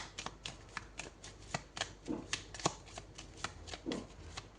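Tarot cards being shuffled by hand, heard up close as a quick run of crisp, papery flicks and riffles with a few fuller slaps, with no talking.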